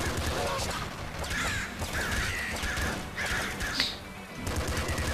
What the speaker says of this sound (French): Corbeau aussi, ce que je viens de tuer là, ils peuvent s'envoler et passer derrière nous là.